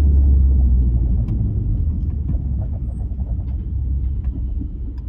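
A VW Golf Mk4 with a damaged driveshaft driving on a multi-lane road, heard from inside as a loud steady low rumble of engine and road noise without speech.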